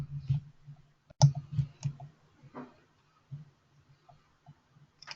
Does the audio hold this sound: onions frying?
no